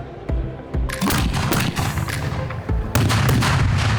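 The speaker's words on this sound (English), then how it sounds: "the ceremonial cannon in the infield signals the speedway is open for business" Ceremonial cannon fired in the infield of the Indianapolis Motor Speedway on Indy 500 race morning, several sharp booming blasts and cracks in quick succession with echoing rumble, loud and close, over outdoor crowd ambience.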